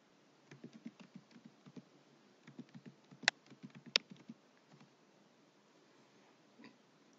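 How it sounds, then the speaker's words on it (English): Fingers tap out a username on a keyboard in a run of soft, quick keystrokes, with a couple of sharper clicks partway through, close but quiet, before the clip trails off into near silence. "then you can type in here the username"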